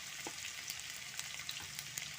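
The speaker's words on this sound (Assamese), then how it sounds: "এতিয়া মই ইয়াতে ৰঙালাওৰ বাকলিখিনি দি দিম। ৰঙালাওৰ বাকলিখিনি মই ভাজি ল'ম।" Pumpkin peel frying in hot oil with nigella seeds, a steady broad sizzle running the whole time with a few brief crackles and pops, moderately quiet and close.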